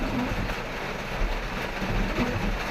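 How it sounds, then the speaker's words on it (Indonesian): Steady dense hiss of heavy rain pouring down, a constant wash of noise with low rumbling underneath and no voices. "wis udan deres"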